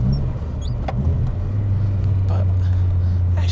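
Turbo-swapped Mk2 VW Golf GTI with a 1.8 engine being driven on a twisty road, a steady low engine drone heard from inside the car with faint road noise and a few small clicks.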